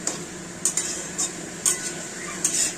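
Papaya shukto being stirred and mixed in a pan, a spoon scraping and clinking against the metal in a few sharp strokes over a faint steady sizzle.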